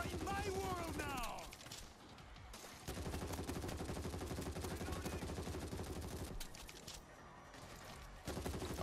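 Sustained automatic gunfire in the zombie shooter World War Z, dense rapid bursts nearly continuous across the clip with brief pauses, loud and close, with game sound effects mixed in.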